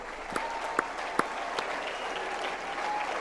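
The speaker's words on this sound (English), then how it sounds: "big applause." Audience at the CPAC USA 2026 conference in Dallas, Texas clapping steadily. The applause holds at a moderate, even level throughout, with a few sharper individual claps standing out, and no voices over it.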